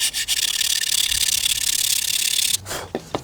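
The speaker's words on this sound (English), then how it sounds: "just sand it with a straight edge" Steady, close rasping of sandpaper on a straight edge, rubbed back and forth on a model aircraft's wing root fairing for a couple of seconds, then it stops and a few light taps follow.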